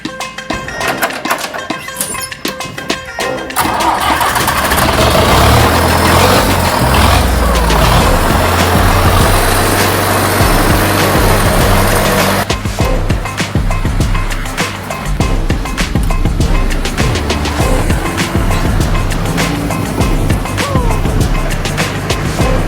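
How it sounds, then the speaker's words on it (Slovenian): A Zetor tractor of just over 60 horsepower hauls a Storti trailer, its engine a loud, steady, close drone that holds without a break for most of the stretch, alone with no talking. "Prikolico znamke Storti žene naš traktor Zetor, ki ima malo čez 60 konjskih moči."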